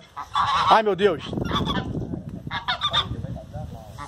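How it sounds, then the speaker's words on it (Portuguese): Geese honk loudly and close by on a farm, with repeated harsh calls in quick succession, and a woman exclaims briefly among them. "Olha o ganso, galera. Vamos ver o ganso."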